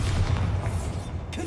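A Bombarda blasting spell goes off in Hogwarts Legacy: a loud, deep booming explosion that rumbles low throughout the short moment, with a fainter second thump near the end.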